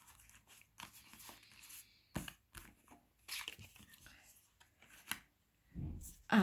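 A tarot deck is shuffled and a card drawn, giving soft irregular papery riffles and slaps between quiet pauses, fairly close and faint.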